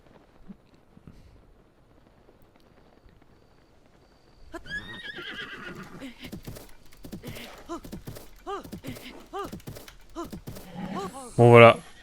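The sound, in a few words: horse neighing in video game Zelda: Tears of the Kingdom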